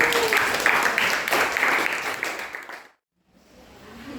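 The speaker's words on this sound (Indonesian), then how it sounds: "beri aplaus dulu untuk kelompok bougainville" Applause from a classroom audience for a student group that has just presented, loud steady clapping that fills the first three seconds and then cuts off abruptly, followed by faint room noise.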